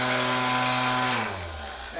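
A Seyvum 2-in-1 battery string trimmer and edger whines loudly at high speed, then winds down as its motor tone drops and fades.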